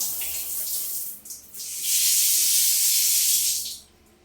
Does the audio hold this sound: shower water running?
yes